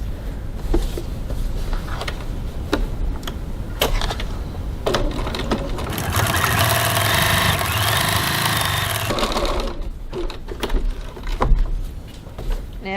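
A sewing machine bastes the sides of a fabric bag together, running in one steady mechanical whir for a few seconds amid clicks and handling noise, fairly close.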